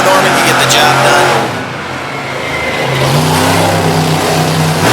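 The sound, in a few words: Bigfoot monster truck Ford engine revving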